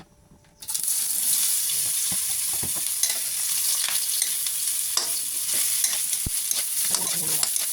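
Kikiam and fishball frying in a hot, smoking pan (kawali): after a brief quiet start, a loud, steady sizzle and hiss fills the clip, with occasional clicks from stirring.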